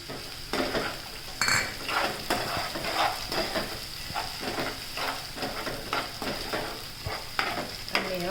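Sesame seeds frying in hot oil for a lilva kachori filling, a steady close sizzle broken by repeated scraping and stirring of a spoon against the pan.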